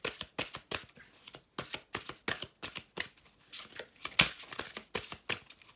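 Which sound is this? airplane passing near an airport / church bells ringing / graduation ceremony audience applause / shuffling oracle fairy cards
shuffling oracle fairy cards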